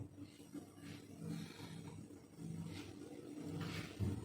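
Gas burner flame roaring steadily with a low, rumbling whoosh as an eggplant roasts directly over it for a Bengali begun bharta, broad noise with a few brief sharper flares.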